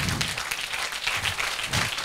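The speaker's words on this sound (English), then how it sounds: "big round of applause to" An audience of employees at a corporate leadership event breaks into sustained, dense clapping and applause, steady and loud throughout with no talk over it.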